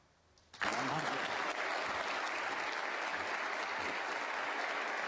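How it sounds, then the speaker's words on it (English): Snooker crowd at the English Open bursts into applause after a century break, starting abruptly from near silence and continuing as a steady, even clapping. "the crowd absolutely loving this"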